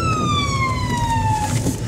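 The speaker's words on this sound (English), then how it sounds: "It's an ambulance, folks." An ambulance siren wails loudly and steadily as it passes close by in traffic, its pitch sliding gradually downward, with road rumble and engine noise beneath it.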